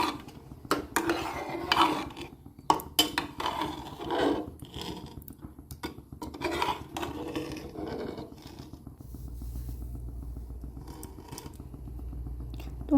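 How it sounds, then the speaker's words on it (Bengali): A spoon scrapes and stirs chicken dal with added garam masala in a metal pot, giving repeated close clatters and scrapes that ease into a steady low simmer. "দিয়ে ভালো করে নাড়িয়ে নিলাম"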